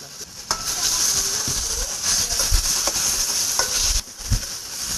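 Onions and spices fry in a dry pan while being stirred constantly, giving a steady sizzle punctuated by scraping and knocking of the spoon against the pan.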